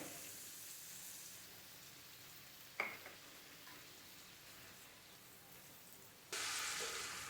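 Quiet, steady sizzling of spice paste frying in a pan while cooking fish with tomatoes, with a single sharp clink partway through and a brief louder hiss near the end.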